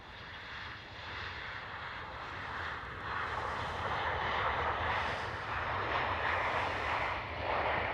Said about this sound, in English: Right here, a KLM 737.